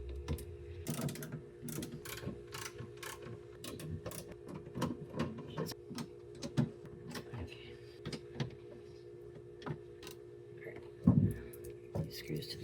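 A ratchet working screws loose from the door card of a 1991 Honda Beat: repeated short clicking bursts at an uneven pace, close and fairly quiet, with a low steady hum and a brief louder clunk near the end.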